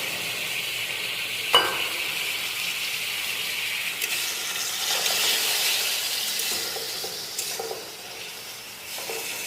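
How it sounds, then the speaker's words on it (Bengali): Spice masala fries in oil before paneer and potatoes go in, a soft continuous sizzle with occasional stirring scrapes and clinks, fairly quiet and close. "আস্তে আস্তে মশলাটা একটু কষছে, একটু তেল ছেড়ে দিলে পনির আর আলুগুলো দিয়ে দেবো।"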